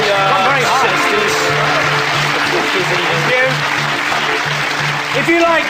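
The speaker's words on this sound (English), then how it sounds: "Cheer and applaud now for person 1." Studio audience on a British comedy chat show cheering and applauding, a dense sustained wash of clapping and whoops that runs loud and steady throughout, with some voices mixed in.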